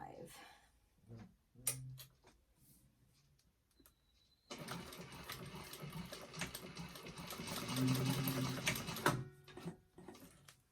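A home sewing machine runs a long basting stitch while making a fabric bag, a steady mechanical whir lasting several seconds after a quieter stretch of handling noises and a brief voice.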